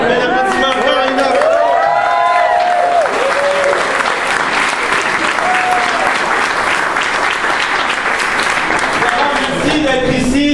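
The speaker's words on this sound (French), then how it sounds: "Donc, mes applaudissements, Carolina." An audience at a campaign office opening gathering gives sustained, loud applause for Carolina, with cheering voices and some shouting mixed into the dense clapping throughout.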